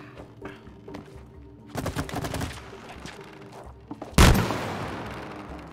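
Video game gunfire from It Takes Two: a cluster of rapid shots rattles out, followed by a single loud, booming blast that fades slowly. The sounds are fairly close and play with no talking.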